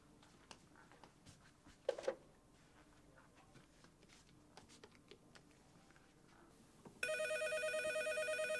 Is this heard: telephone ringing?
yes